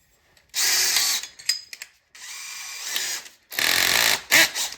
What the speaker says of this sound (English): then I'll get this drill here